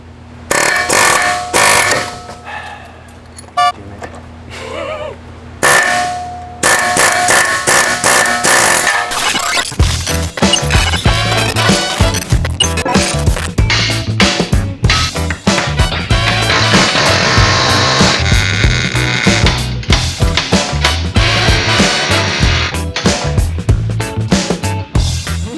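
Air chisel hammering hard on the axle joint cage of a Honda Prelude H23, a loud rapid pneumatic rattle in repeated long bursts with short gaps, growing denser and nearly continuous in the second half.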